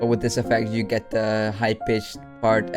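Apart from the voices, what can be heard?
No everyday noises stand out.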